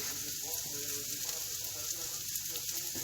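Lardons and sauce for broccoli cannelloni simmer and sizzle steadily in a pan, a close, even crackling hiss running throughout with no talk.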